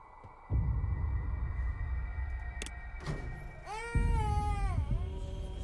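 A cat meows several times in the video game Baby in Yellow, with clear rising and falling calls near the end over a steady low electronic hum and background game ambience.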